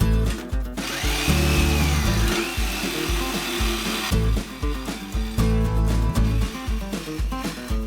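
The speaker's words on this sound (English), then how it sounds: "The saber saw has an easy time cutting through the remaining material" A saber saw cuts through the remaining material of an engine-swap part, its harsh reciprocating buzz loud and close, with rhythmic chattering strokes shifting in pitch as the blade finishes the cut.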